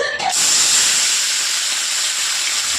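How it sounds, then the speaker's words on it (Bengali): Small whole fish dropped into hot oil for a Bengali home dish, setting off a loud, steady sizzling hiss that starts abruptly and holds nearly unchanged for a few seconds, with no talking over it. "তো বন্ধু তেল তেতে গেছে, তো এবার আমি চুনো মাছটা করে নেবো,"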